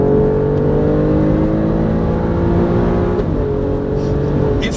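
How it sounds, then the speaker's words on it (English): Alfa Romeo Stelvio Quadrifoglio with its 510 bhp engine, accelerating hard, sustained loud engine note and exhaust rising steadily in pitch, with a brief shift near the end, close and continuous with no talking. "You get the beautiful sounds out the back of the exhaust as well."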